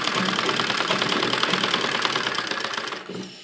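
A sewing machine stitches fabric for a baby frock, running in a fast continuous mechanical patter close by for about three seconds before slowing and stopping, with no voices.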